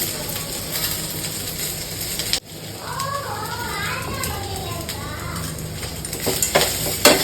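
Shredded cabbage sautéing in a pan for chutney, a steady hiss of sizzling with occasional stirring scrapes, briefly interrupted by a sharp cut before the frying noise resumes, with faint background voices.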